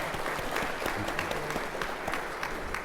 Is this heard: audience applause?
yes